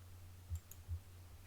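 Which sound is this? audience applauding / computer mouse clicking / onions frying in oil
computer mouse clicking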